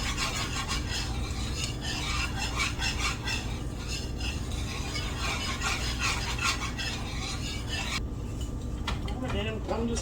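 A utensil steadily scrapes and stirs through sausage gravy in a pan as it comes to a boil and thickens, a continuous close rasping rhythm with a soft bubbling undertone.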